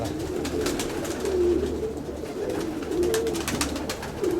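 Zemun highflyer pigeons, old Zemun tumbler stock, coo repeatedly in a low, steady murmur, several birds close by against a rustling background with no talk.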